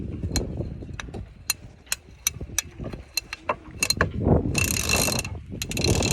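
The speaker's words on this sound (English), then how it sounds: "That's the sound of a happy and clean winch" A freshly rebuilt, clean sailboat winch being turned, giving sharp ratcheting clicks at an uneven pace over a low mechanical rumble, with a brief hiss of rope or gear near the end.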